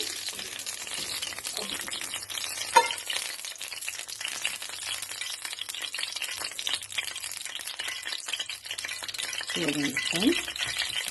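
Oil heating in a kadai on a stove for brinjal fry gives a steady soft sizzle and crackle, with occasional clinks of the pan and brief voices over it.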